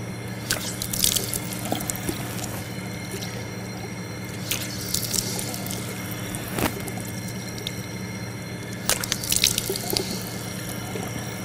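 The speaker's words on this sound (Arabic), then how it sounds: "ثم بعد ذلك غسل الوجه ويبدأ من منبت الشعر إلى الذقن" Water from a running tap splashing and dripping as the face is washed during wudu ablution, a steady flow broken by short splashes and drips, with no voices.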